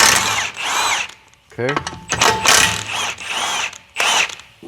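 A power tool runs in several short bursts on 18 mm crossmember bolts of a Ford Ranger, close and loud, with a brief spoken word between bursts.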